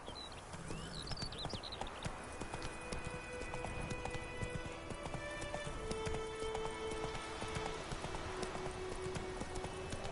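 Hooves of the horse Roach clip-clopping at a run in The Witcher 3, a fast steady rhythm of hoof falls over continuous game ambience and music tones.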